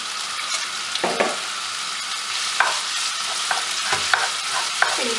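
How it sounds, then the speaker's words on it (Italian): Skinned, chopped sausage pieces frying in a pan for a rustic tart, a steady close sizzle punctuated by intermittent spatula scrapes and stirring clicks. "Adesso comincia a sfrigugliare. Metto giù anche la salsiccia"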